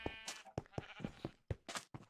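Minecraft sheep bleating in a series of short, separate, fairly quiet bleats with brief pauses between them, heard with no talk over them.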